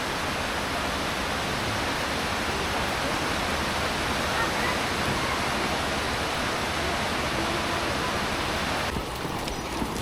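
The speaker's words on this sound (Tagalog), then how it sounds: "Umuulan lang eh." Steady outdoor rain pours down in a continuous, loud, even hiss with no letup, heard close and alone throughout.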